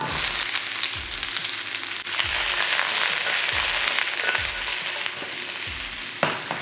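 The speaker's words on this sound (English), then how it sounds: "So just let them kind of fry off a wee bit first" Onions frying in a pan for a chicken satay, a dense steady sizzle, close and fairly loud, with soft rhythmic scraping or stirring thumps under it and no talking.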